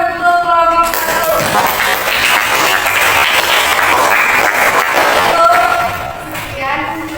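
A school class applauds a student group after its presentation, a dense, loud burst of clapping lasting several seconds, with voices heard at the start and end.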